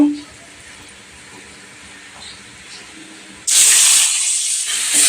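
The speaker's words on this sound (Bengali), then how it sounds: "এই যে ভালো করে ভেজে নিচ্ছি ডালটাকে লাল লাল করে" Quiet stretch, then a sudden loud hissing sizzle bursts in as washed lentils hit hot ghee and keep sputtering steadily.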